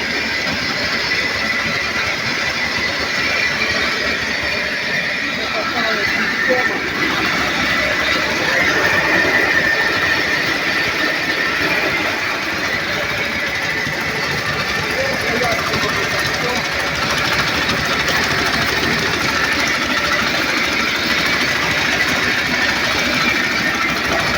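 A homemade automatic bean thresher spins with a loud, continuous mechanical whir and rattle that runs steadily without pause. Talk is heard under the noise.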